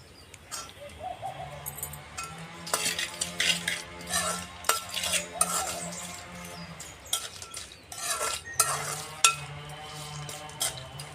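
Oil-coated mixture of pounded ingredients being stirred by hand in a vessel, with scraping and clinking strokes in uneven bursts, moderately close, while birds coo and chirp faintly in the background.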